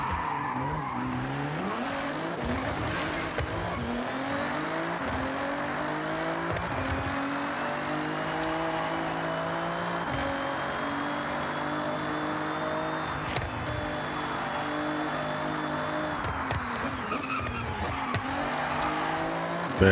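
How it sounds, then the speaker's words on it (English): Tires squeal and skid in the Forza Horizon 6 racing game as a car brakes hard, a long continuous screech over a droning engine that shifts pitch, loud and steady throughout. "Barely got the car slowed down."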